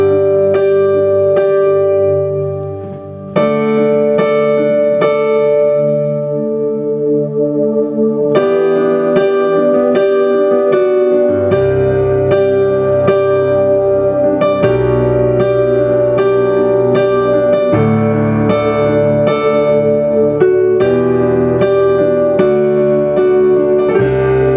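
Nord Stage 2 piano with hall reverb set moderately low plays a flowing melody over sustained chords, with gentle ringing tails and one brief pause near the start.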